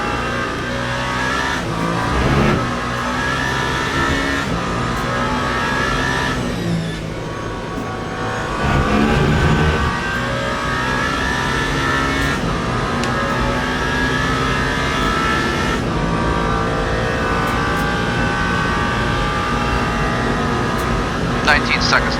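Race car accelerating in Le Mans Ultimate, a loud sustained engine roar climbing in pitch through gear changes, with a person talking over it throughout.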